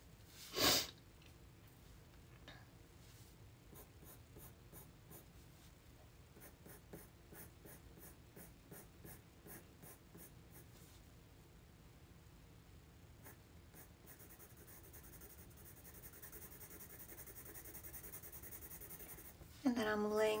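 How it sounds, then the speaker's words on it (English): Colored pencil strokes scratch across paper with a magenta pencil, in repeated quick bursts of soft scratching. They are faint and close, with a few louder handling knocks at the start and end. Breathing is audible in the background. "I'm going to go back with that magenta and just go over top."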